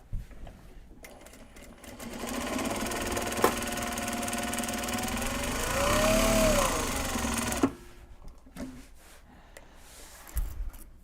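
Sewing machine stitching Japanese fabric bags, a steady continuous motor whir that runs for several seconds, rises in pitch briefly, then stops abruptly; close and fairly loud with no talk.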